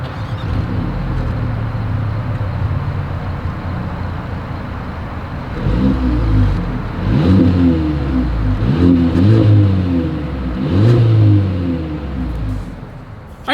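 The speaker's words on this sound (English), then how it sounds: "As always, here is that exhaust clip." Exhaust of a 2023 Mercedes-Benz GLA 250 idling steadily, then revved several times in rising, throaty bursts, loud and close with no talk over it.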